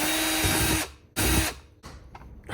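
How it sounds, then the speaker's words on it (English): A power drill whines loudly while boring a hole in the center console of a BMW E46, running in two hard bursts and then a shorter, lighter spin before stopping. "I'm gonna try and drill a hole and then trim it out"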